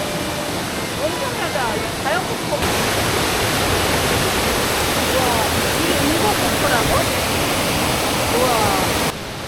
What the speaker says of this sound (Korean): 단풍 폭포입니다